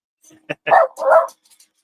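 A dog gives a few short, close barks and yips in quick succession, loud and alone.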